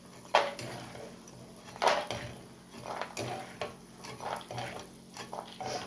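Golden-fried pieces for a totakura curry are scooped out of the pan into a bowl. Several close scrapes and metallic clinks of utensils against cookware repeat irregularly over a faint background sizzle.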